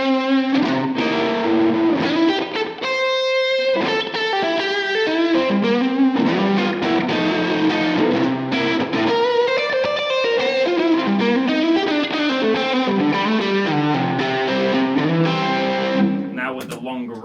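A 2010 Suhr Modern LE electric guitar with a Silver Drip finish and maple neck plays on its neck pickup through a distorted, effects-laden tone, as a continuous run of chords and melodic lines, loud and close, briefly pausing mid-phrase.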